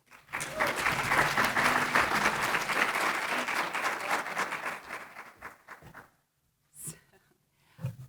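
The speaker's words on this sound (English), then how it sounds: "So please give her a round of applause." Audience applause greeting a keynote speaker at a voter event, a loud sustained burst of clapping that swells then fades out after about six seconds, followed by a few faint isolated sounds.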